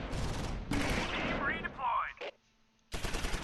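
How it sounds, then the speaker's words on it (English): Machine gun fire in the Close Combat IV video game, a WWII battle at Udenbreth: rapid bursts of shots, then a brief near-silent pause and another burst starting, loud and close. "Open up that machine gun."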